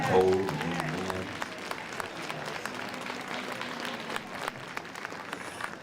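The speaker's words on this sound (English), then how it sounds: "give a round of applause for these musicians who have been playing in the cold and in the wind" An audience claps for musicians who have been playing outdoors in cold, windy weather at a Los Angeles African American Heritage Month event; steady crowd applause fills the whole stretch, strongest at the start, with some voices mixed in.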